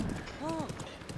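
Horse hooves clip-clop faintly in Legend of Zelda: Breath of the Wild as the horse moves through a thunderstorm, a soft, muffled rhythm under a low rumbling backdrop with no talk.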